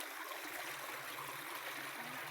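A river flows steadily with a continuous broadband rush of moving water, even and unbroken throughout, with no voices heard.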